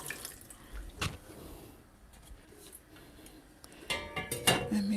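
Tap water runs and splashes into a sink while peanut soup is being made, with brief clinks and drips over a quiet kitchen background.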